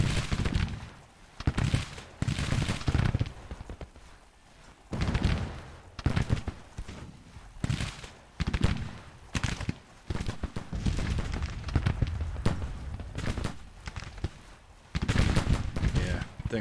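Rolling musket volleys crackle and pop from massed regiments in a Grand Tactician Civil War battle, with bursts of dense gunfire rising and falling over a rumbling battlefield din.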